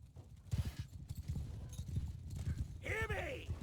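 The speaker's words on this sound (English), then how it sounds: "Cavalry charge now." Cavalry horses charging in the medieval battle game Mount & Blade II Bannerlord, with rapid thudding hoofbeats and a horse whinny near the end, heard under a voice talking.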